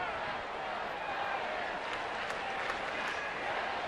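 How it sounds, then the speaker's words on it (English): A stadium crowd at a Colorado–San Francisco baseball game applauds in a long, steady wash of clapping, broad and fairly distant, holding evenly for the whole stretch. "They kept applauding."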